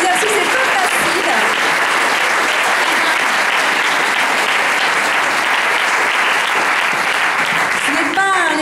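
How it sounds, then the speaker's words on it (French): A large audience applauds at a public talk with a professor, welcoming two young participants onstage. The clapping is loud, dense and unbroken for about eight seconds, with a voice surfacing briefly at the very end. "je vous demande de les applaudir"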